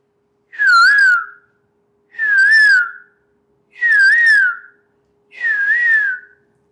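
Four evenly spaced whistled calls, each a warbling two-part note, imitating a cuckoo; clear and close with silence between them.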